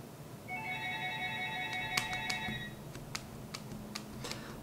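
A phone rings with a soft electronic melodic tone for a couple of seconds, followed by a few faint clicks and taps in a quiet room.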